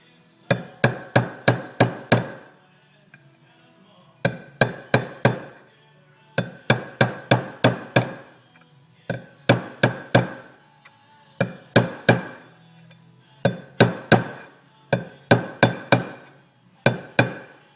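A steel punch is struck with a hammer against a trailer wheel bearing race. Sharp metallic taps come in quick bursts of four to six, separated by short pauses, each burst close and loud, with no talking.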